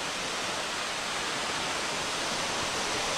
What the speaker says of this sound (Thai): หลังผมนี้นะครับก็คือน้ำตกที่ว่ากันว่าเป็นน้ำตกที่สวยที่สุดอีกแห่งหนึ่งในภาคอีสานครับ